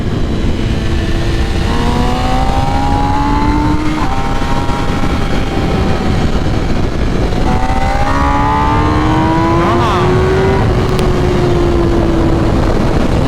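A 2021 MV Agusta Rush motorcycle with an ECU flash tune accelerates hard, its loud engine note climbing in pitch through several gear changes against constant wind roar.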